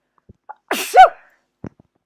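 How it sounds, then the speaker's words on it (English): A single close, sharp sneeze, preceded by a quick breathy intake, with a few faint small clicks around it. "I've got to sneeze."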